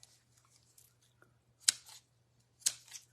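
Two crisp snips of scissors trimming the ends of fabric ties on a homemade sewn fabric carrot, close by and spaced about a second apart in a quiet room.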